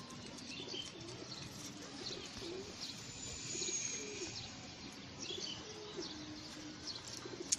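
Pigeons cooing in a loft or coop, soft repeated low coos over a steady murmur of rustling and occasional wing flaps, close and moderately quiet.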